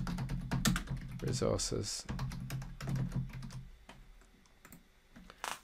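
Computer keyboard typing as text is entered, rapid close key clicks running under a person's speech, with clicking continuing faintly after the talk stops.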